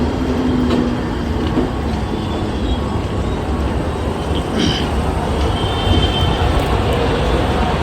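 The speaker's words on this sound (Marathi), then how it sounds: "ही ट्रेन आले बघा" A train rolls into Badlapur railway station with a loud, steady rumble and rattle of passing cars, close by, with faint squeals and no clear talking.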